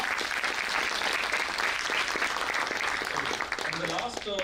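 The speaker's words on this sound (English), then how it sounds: "Just a one round of applause to our staff." Sustained audience applause fills a hall at an institute event in Pune, a dense, steady wash of many hands clapping that stays loud throughout and begins to thin near the end as a voice starts to speak.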